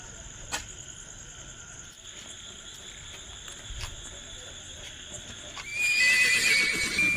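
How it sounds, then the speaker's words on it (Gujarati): A horse whinnies over a steady insect buzz, with scattered hoof clops; the neigh swells loud and close near the end. "અત્યારે કોઈ શેરડીના ઘોડાનો અવાજ ક્યાંથી?"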